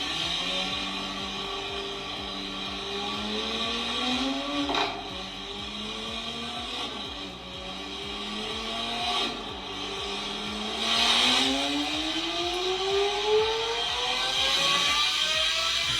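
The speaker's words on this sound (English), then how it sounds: "Aventador S with our full exhaust, equal length downpipes." A Lamborghini Aventador S with a full aftermarket exhaust and equal-length downpipes revs hard, its engine note sweeping up through repeated climbs with sharp crackles between pulls, loud and close.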